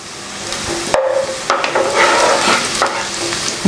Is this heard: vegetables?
yes